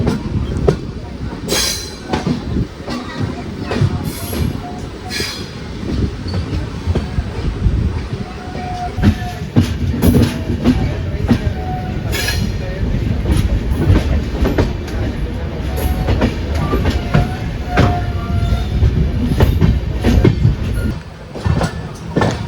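The Cholan Express runs near Villupuram station, a loud continuous rumble of wheels on rails with rhythmic clickety-clack over joints and occasional squeals, heard from inside the moving train.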